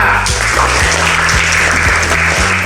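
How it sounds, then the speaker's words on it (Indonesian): Applause from a classroom of students, a steady patter of clapping throughout, loud and close with a hint of voices mixed in. "Aplaus kita kasihkan untuk Zahra."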